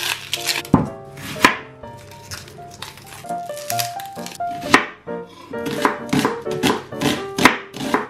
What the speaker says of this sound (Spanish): Les quitamos todas las cáscaras y luego las vamos a partir en rodajitas.